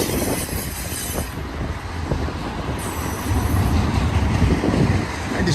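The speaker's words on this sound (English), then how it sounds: "So it's going to be a standard C train with JB Hunt sliders." BNSF intermodal freight train with J.B. Hunt trailers rolling past at Blue Cut in Cajon Pass, a steady rumble of wheels and cars with faint metallic squeal, growing slightly louder toward the end.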